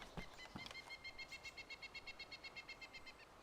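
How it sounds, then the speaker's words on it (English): Birds in the DayZ Alpha video game sing in a faint, distant chorus, with a rapid repeated chirping trill running steadily throughout and a couple of soft thumps near the start. "these old bird sounds just have a different feel to them"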